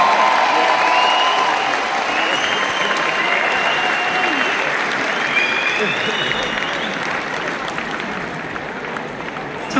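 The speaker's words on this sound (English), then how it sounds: "Give yourself a round of applause." A large crowd in Manchester at an evening event for boxer Ricky Hatton breaks into a loud, sustained round of applause with cheering mixed in, holding steady for around ten seconds.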